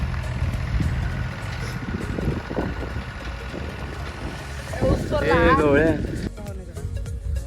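A tractor works a farm field, its engine a low, steady rumble heard in the background while people talk loudly over it throughout.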